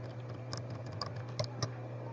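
Light, quick keystrokes on a computer keyboard while entering values into an Excel spreadsheet, a few sharper clicks standing out over a steady low hum, close and quiet with no talking.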